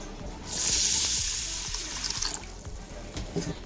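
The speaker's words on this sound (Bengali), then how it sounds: "এবার আমি জল দিয়ে ভিজিয়ে দিচ্ছি" Water poured over small-grain sago in a bowl, a steady splashing stream for about two seconds, then quieter trickles and light clinks, close and fairly faint.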